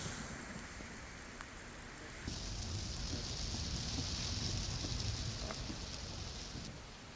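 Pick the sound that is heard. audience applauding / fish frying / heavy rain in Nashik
heavy rain in Nashik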